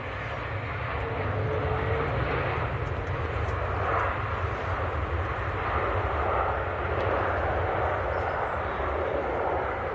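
A Ryanair airliner arriving from Lanzarote roars steadily at Manchester Airport, a loud, continuous broadband jet rumble that holds for the whole stretch without pause.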